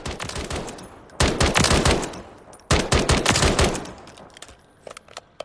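A SIG SPEAR Assaulter K rifle firing 6.8x51mm rounds in Call of Duty Modern Warfare III, with two loud, close bursts of rapid shots, each about a second long, separated by a brief pause and followed by fading echo and a few faint clicks.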